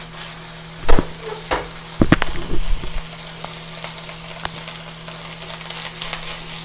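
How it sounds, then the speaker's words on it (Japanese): Bacon frying in a pan while being cooked for a quick doria, a steady sizzle with scraping and clatter from stirring, louder bursts of utensil knocks in the middle, no talking. "今ベーコン炒めてるんですよ"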